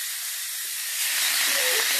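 Tomato paste hits a hot pan while fish is being cooked, a soft steady sizzle and hiss that swells slightly louder partway through, close and alone with no talk.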